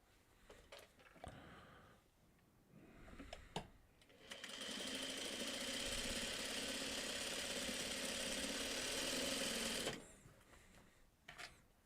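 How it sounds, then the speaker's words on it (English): A sewing machine stitches fabric in one steady, fast, whirring run of about six seconds, close and loud, with handling sounds and light taps before and after it. "I'm just going to sew it like that, and then we'll cut the rest off"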